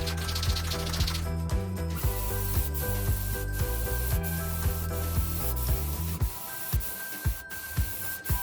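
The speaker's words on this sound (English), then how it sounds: "I did sand in between each coat" Sanding a painted Art Deco style buffet between paint coats, with close, continuous rubbing and scraping strokes in an irregular rhythm over a low mechanical hum.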